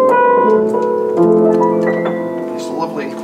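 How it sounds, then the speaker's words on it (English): Yamaha U1 upright piano played with its felt practice mute engaged, giving soft, muffled notes and a short sequence of chords that ring on at a gentle, close volume. "it puts a felt in between the hammers and the strings for quiet practice"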